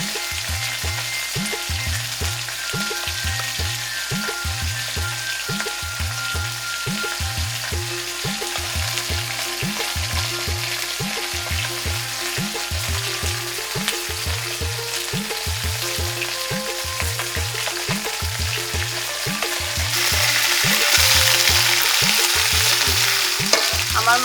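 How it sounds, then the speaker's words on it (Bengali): Small shrimp fry in hot oil with a steady, dense sizzle over a regular, rhythmic low knocking. The frying swells louder near the end, and no one speaks. "আমি এই তেলে ইসা মাছ ভাজবো"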